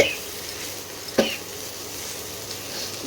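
Fish fries in oil in a pan, making a soft, steady sizzle. A sharp scrape or clink of a utensil against the pan cuts in once, followed by faint stirring sounds, and no one speaks.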